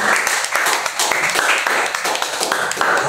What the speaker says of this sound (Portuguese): E as palmas já vão ao Senhor.